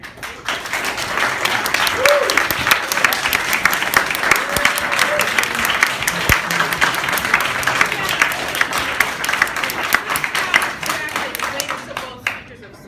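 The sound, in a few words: audience applause at a political club meeting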